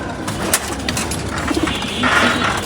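Female racing pigeons, blue-coloured birds in a loft, coo softly in short bursts close by over a steady low background.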